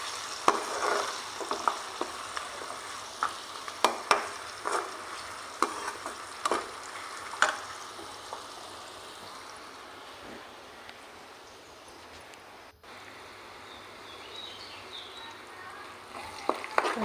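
Curry leaves frying in a pan of mutton blood curry give a steady soft sizzle with faint stirring scrapes and a few sharp clinks, heard close and alone without talk.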